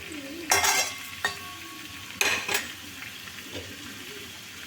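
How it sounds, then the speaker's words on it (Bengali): Pumpkin pieces frying in a pan without salt, a soft sizzle broken by a few sharp clatters of a spatula scraping and knocking against the pan, close and fairly loud. "কুমড়োটা একটু বেশিক্ষণ সময় নিয়ে ভাজছি"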